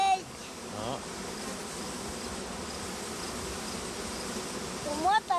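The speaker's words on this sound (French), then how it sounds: "Regarde les abeilles ici, là." Bees hum in a dense, continuous drone around brood comb in an open hive, close and steady, with brief chirpy sounds near the start and end.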